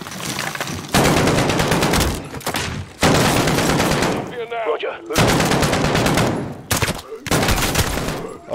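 Bursts of automatic gunfire in a Call of Duty Modern Warfare campaign mission, loud and close, coming in several long volleys broken by short pauses, with quieter rustling and movement in one of the gaps.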